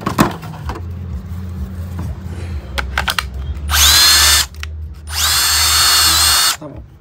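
A used Bosch cordless drill with torque and gear settings runs in two loud, sustained whirring bursts, preceded by a few sharp trigger clicks and handling knocks, close to the listener, with a low hum underneath.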